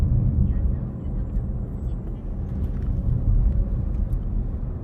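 A car cruising along National Route 6 through Gyeyang-gu in Incheon, heard from inside as a constant low road and engine rumble with steady tire noise throughout.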